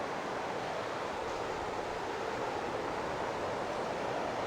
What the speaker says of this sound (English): Well, the waterfall is just around here